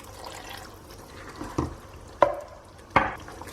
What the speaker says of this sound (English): Add a bit of water and then, cook it for about 40 minutes to 50 minutes